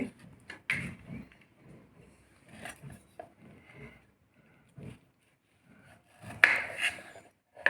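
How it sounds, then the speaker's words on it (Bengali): Tomatoes halved with a knife on a board, a sparse series of soft cuts and light knocks spaced irregularly, close and quiet, with a louder clatter near the end. "টমেটোগুলোকে কেটে নিই এরকম মাঝখান থেকে কেটে নিচ্ছি"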